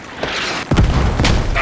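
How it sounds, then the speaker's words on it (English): Mortar shells exploding in a military strategy video game, heavy low booms landing in quick succession with dense rumbling bursts layered over a constant battlefield din. "Enemy mortars on the 1 mark."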